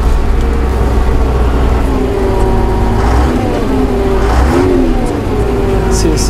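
Vervaet agricultural machine engine revving steadily on the throttle, a loud continuous mid-pitched drone with rising and falling swells, heard up close with a voice talking over it.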